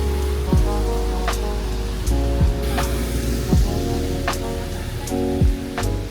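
Steady rain patters on a surface throughout, with a few sharp drips or splashes standing out over the continuous wash.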